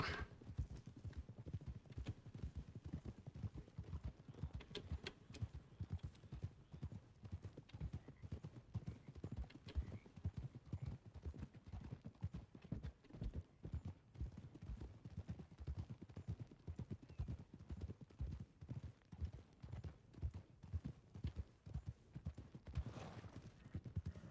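Horse hooves clip-clop steadily at a varying pace in Red Dead Redemption 2, close and loud over a low rumble, sometimes quickening, with an occasional brief whinny-like sound.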